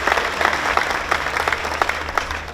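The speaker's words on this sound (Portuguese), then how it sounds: "Aplauda mais. É aplaudir a Deus." A church congregation applauds steadily during a speech, with dense, continuous clapping from many hands filling the hall at a fairly loud, even level.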